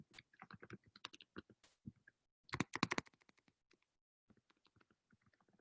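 Typing on a computer keyboard: quick clustered keystrokes in bursts with short pauses, close and fairly quiet, no talking.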